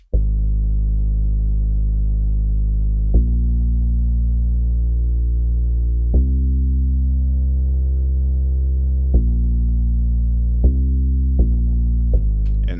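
Synth bass line playing sustained low notes that follow a piano's root notes in an R&B production, each note held for several seconds with clear attacks, steady and loud with no talk.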